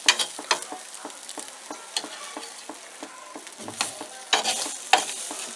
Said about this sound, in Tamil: இப்போ பிரெட்டை நல்லா பெரட்டி போட்டுருக்கோம்.